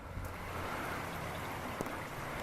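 Steady rain pours down on a Sunday evening where Muscovy ducks gather near overflowing drains, a dense, even hiss of falling water with a faint low hum underneath and no voices.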